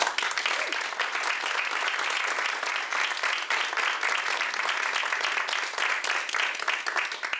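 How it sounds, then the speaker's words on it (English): Sustained audience applause fills a voters forum hall, dense steady clapping from many hands for several seconds, loud and continuous with no speech over it. "Let's give them a round of applause."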